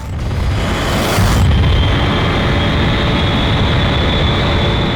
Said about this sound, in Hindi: अभी एक मिसाइल यहाँ से फायर किया गया है